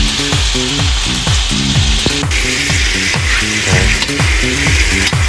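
Carrots stir-fry in a hot pan for chop suey with chicken liver and quail eggs: a loud, constant sizzle under quick, rhythmic scraping strokes of a spatula.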